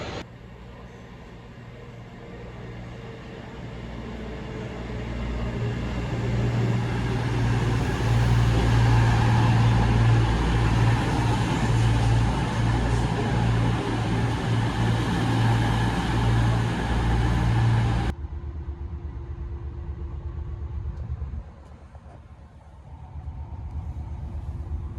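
A five-coach Cross Country train pulls into a station platform, a loud rising rumble and rush building over several seconds, holding steady, then cutting off abruptly to a quieter background hum.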